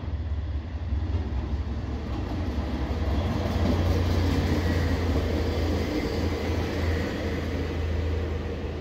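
Steady, loud rumble of a passenger train in motion heard from inside the carriage aboard the blue train in the Netherlands, continuous low drone with faint rattling and no talk.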